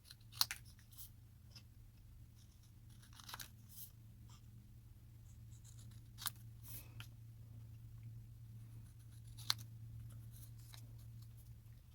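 Scissors trim the ends of packaging paper for a handmade Christmas gift card holder tag, giving a few sparse, quiet snips and crisp paper rustles spread over a steady low hum, close and faint with no talking.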